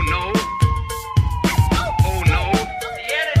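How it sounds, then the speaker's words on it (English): An ambulance siren sampled into a sound collage: loud wailing, sweeping tones chopped up over a steady thumping beat. "Here is the ambulance."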